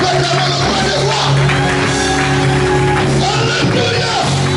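A church congregation cheers and acclaims loudly and continuously, with shouts, whoops and yells blending into a dense close crowd roar.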